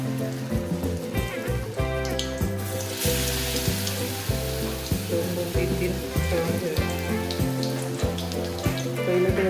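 Mini batata vadas dipped in besan batter frying in hot oil, giving a loud, steady, bubbling sizzle that runs without a break, over a repeating low background hum.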